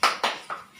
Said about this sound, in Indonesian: Ayo tepuk hebat ya Bu ya.